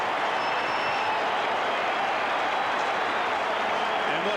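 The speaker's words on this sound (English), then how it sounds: "Listen to this crowd." Thousands of spectrators at a 1995 North Melbourne versus Richmond Australian football match cheer and clap in a sustained, even wash of applause, loud and unbroken, with a faint voice lightly over the roar.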